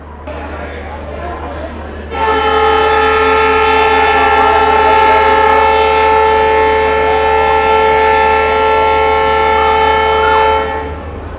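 An electric locomotive at Jaipur railway station sounds a long, loud, steady horn blast that starts abruptly and holds for about nine seconds over a low rumbling background.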